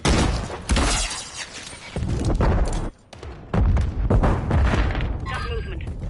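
A bomb charge detonating in Call of Duty MW3 Search and Destroy, loud shattering booms and crashing debris filling the whole stretch, with a brief dip before the blasts resume, under game voice lines.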